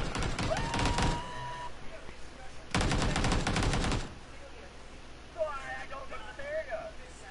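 Mortar fire in a video game comes through as two long rattling bursts of rapid explosive shots, loud and close, with a voice talking faintly between and after them.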